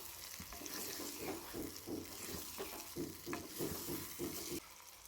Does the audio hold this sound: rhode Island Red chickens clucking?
no